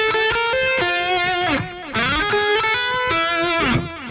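An electric guitar played through a digital delay on a Line 6 Pod Go rings out sustained notes and slides, each phrase trailing repeating echoes, loud and clean with no talk.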